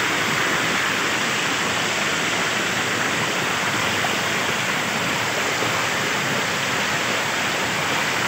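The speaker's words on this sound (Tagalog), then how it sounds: "Makalino ng tubig dito." Clear, cold flowing water rushes continuously at close range, a dense, even hiss like a stream or small waterfall, steady and loud throughout with no voices.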